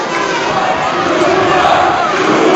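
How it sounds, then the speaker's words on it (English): A boxing crowd at a heavyweight fight roars in a dense, continuous wall of cheering and shouting, loud and close throughout. "The crowd's starting to push Tua, but he has to stay focused"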